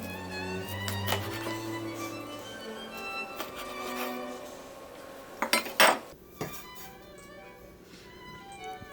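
A kitchen knife dicing sliced vegetable pieces into cubes on a cutting board, heard as a run of close, light taps and clicks with a few sharper knocks near the end, no talking.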